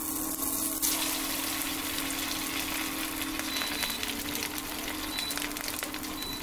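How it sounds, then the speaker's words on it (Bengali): Balls of dough sizzling steadily in a very hot mix of oil and ghee, a continuous near frying hiss with bubbling, alone with no talk, for a sweet festive rice offering. "এরপর আমি একে একে এই এই গোল মণ্ডগুলোকে তেলে ছেড়ে দিচ্ছি, তেল আর ঘিয়ের এই মিশ্রণে আমি ছেড়ে দিচ্ছি"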